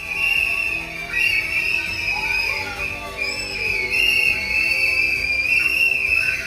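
A shrill, continuous whistle blown repeatedly as a sound effect, loud and close, its pitch bending and warbling across several seconds with brief dips between blasts.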